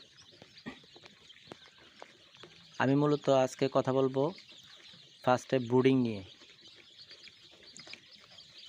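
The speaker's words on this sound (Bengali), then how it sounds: "এই যে বাচ্চাগুলো দেখতে পাচ্ছেন" Many Sonali chicks, three days old, cheep continuously in a dense, high chorus close by, while someone speaks over them in two stretches.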